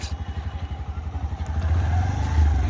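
A motorcycle engine idles with a rapid pulsing putter that swells into a steadier, louder rev as a learner gives light throttle, heard up close with no talk over it.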